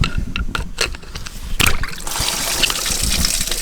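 Coolant splashes and gushes out as the water pump is levered off an Escort van, an uneven trickle swelling into a steady close pour after a brief clunk.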